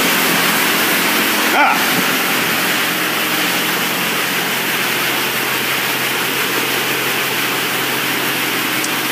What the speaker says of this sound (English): High pressure rinse. Wash all that dirt off.